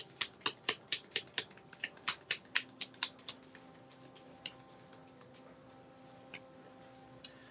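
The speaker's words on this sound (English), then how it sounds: "as I shuffle through this card" Tarot cards being shuffled in a steady run of about a dozen crisp riffling snaps over the first three seconds, then thinning to a few scattered flicks, close and alone with no talking.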